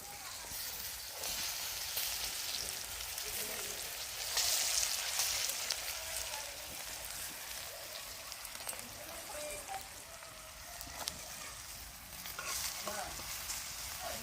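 Cabbage stir-frying with spices sautéed in garam masala, a dense continuous sizzle like heavy rain filling the whole stretch, with scattered stirring scrapes and taps over it.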